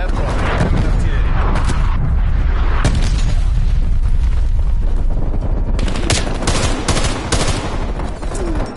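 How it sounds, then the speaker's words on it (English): Artillery strikes in the video game Call of Duty Black Ops Cold War land as loud, dense booms and crackling blasts one after another, with heavy rumble filling the mix and game voice callouts mixed in. "Hostile artillery targeting active."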